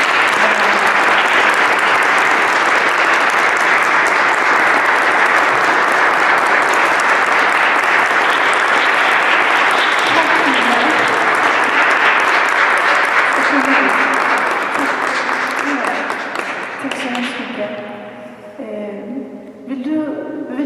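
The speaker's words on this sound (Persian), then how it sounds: "ایشون تشویق کنید با دستاتون" A church congregation in Stockholm's Saint Clara church applauds loudly and steadily for about fifteen seconds, a dense wash of clapping that then thins out and fades as a voice begins speaking near the end.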